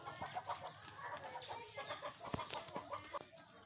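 Hens cluck steadily on a small farm flock of about eighteen birds, with a run of overlapping close clucks and soft calls, one sharp knock partway through.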